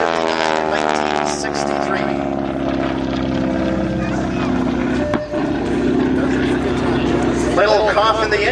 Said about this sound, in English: Little cough in the engine as Bud slow rolls that airplane over center